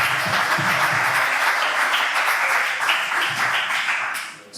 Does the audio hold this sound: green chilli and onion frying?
no